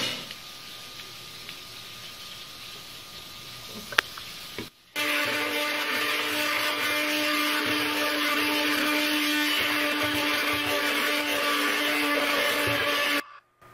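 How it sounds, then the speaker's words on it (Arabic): An electric blender whirs loudly and steadily for several seconds, blending Moroccan bissara, after a quieter stretch of background hum, cutting off abruptly at the end. "سنضع الخلاط الكهربائي."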